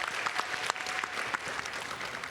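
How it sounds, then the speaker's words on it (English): An audience at an evening panel on digital mental health for the Asian diaspora applauds in a steady, dense wash of clapping from many hands, moderately distant and continuous throughout. "so if we could give her a round of applause as well"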